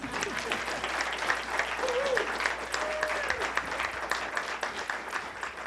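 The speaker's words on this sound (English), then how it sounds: "can we give these candidates a round of applause?" An audience at a candidate forum for governor and Congressional District 11 gives a sustained round of applause, a dense patter of clapping with a few voices mixed in.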